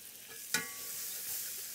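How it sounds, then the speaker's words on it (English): Butter melts in a hot pan that still holds browned beef fond, making a soft, even sizzle with one brief sharp click near the start, quiet and close, with nobody talking. "So in goes some butter, and we'll melt that off."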